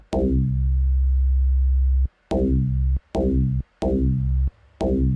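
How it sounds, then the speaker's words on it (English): A deep FM-synthesized bass tone built from a sine wave plays five sustained notes, each starting bright and quickly mellowing into a low hum, separated by short silences. "we've just created a bass out of a sine wave"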